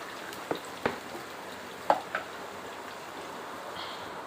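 Onions fry in oil in a pan with a soft, steady sizzle, while a spoon stirs them and gives a few sharp scraping clicks.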